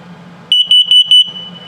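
A carbon monoxide detector in a 2022 Ember Overland Micro ROK travel trailer sounds a rapid burst of four sharp, high-pitched beeps, loud and close, between stretches of quiet background hum.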